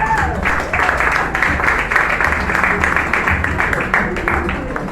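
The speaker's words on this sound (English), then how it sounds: "Please, another round of applause for her. Let's clap for her." Sustained audience applause with dense clapping fills the room at close range and steady loudness, a few voices rising faintly beneath it, at a talk on the health benefits of eggs and chickens.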